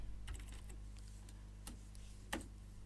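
Typing a track name on a computer keyboard: a few scattered, quiet key clicks with pauses between them, close by, with no talking.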